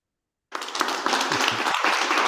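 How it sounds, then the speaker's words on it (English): After a short silence, an audience bursts into applause that builds quickly and holds as a dense, continuous clapping wash to the end. "Avec vos applaudissements, hein, les applaudissements de la technique."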